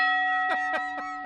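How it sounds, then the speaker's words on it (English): A bell signals the end of a timed two-minute debate round with several quick ringing strikes over a sustained, shimmering tone, fairly near and moderately loud. "that is our bell. So our time is up with that."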